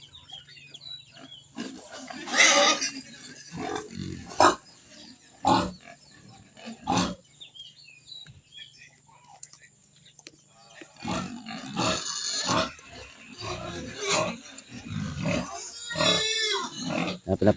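Pigs in a pen grunt and squeal in loud bursts close by, with quiet gaps between, a low constant hum underneath and some faint background noise.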